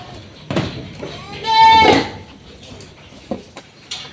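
Full-blood Boer goats on a green-grass farm give one loud, drawn-out bleat near the middle, with softer farm noises and brief voices around it.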